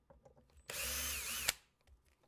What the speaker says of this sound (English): we are going to use the drill to make this easier and faster